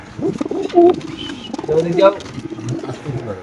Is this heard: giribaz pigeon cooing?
yes